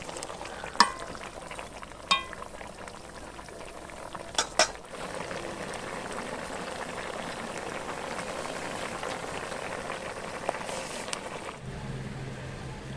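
A pan of tilapia fish and yardlong bean curry bubbles and sizzles steadily for several seconds, with a few sharp clinks of a utensil against the pan early on and near the end.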